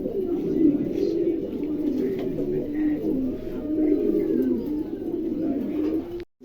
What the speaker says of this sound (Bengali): চমৎকার এক জোড়া কবুতর দেখছেন